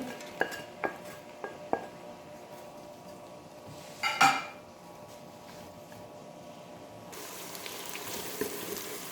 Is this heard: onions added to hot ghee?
yes